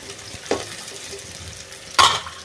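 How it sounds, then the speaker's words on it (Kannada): Chopped onions fry in a pan with a low background sizzle, broken by two short scraping stirs, one soft and one louder near the end. "ಕಟ್ ಮಾಡಿರೋ ಉಳ್ಳಾಗಡ್ಡೆಯನ್ನು ಹಾಕೊಂಡ್ಬಿಡಿ ಉಳ್ಳಾಗಡ್ಡೆ ಹಾಕಿ ನಂತರ ಸ್ವಲ್ಪ ಫ್ರೈ ಮಾಡ್ಕೊಳ್ಳಿ"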